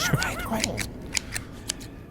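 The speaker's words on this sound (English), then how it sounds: "Usidore just took out scissors. He's just cutting his fucking hair." Scissors snip through hair in a rapid series of sharp, crisp cuts, close and distinct, while a voice speaks briefly at the start.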